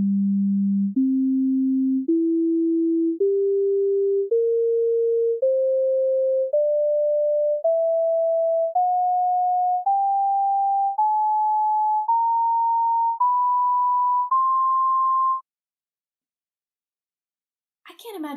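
Synthesized pure tones for the first 16 harmonics, played as a rising sequence of steady beeps of about one second each, climbing evenly in pitch, followed by a pause and a brief trailing sound.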